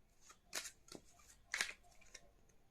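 Tarot cards being shuffled close to the microphone, quiet riffling bursts that swell twice in distinct flurries amid soft shuffling and tapping in a hushed room.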